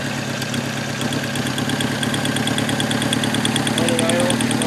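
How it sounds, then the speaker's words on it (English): Car engine idling roughly with a misfire, a steady loud mechanical drone with a regular ticking pulse running throughout, close and continuous. "Let it idle."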